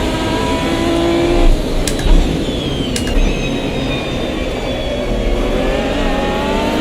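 GT1 race cars from 2005, a Viper and a Corvette among them, roar side by side at Bathurst's Mount Panorama circuit in Automobilista 2, with loud sustained engine drone and a few sharp bumps or gear-shift bursts.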